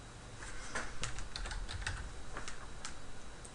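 Someone types a name on a computer keyboard while setting up a TeamSpeak connection: quiet, close key clicks in an uneven run of a dozen or so taps over a faint room hiss.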